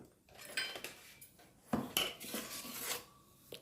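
Spoon stirring semolina and urad dal in a bowl, scraping and clinking against the sides in uneven strokes, close and fairly quiet.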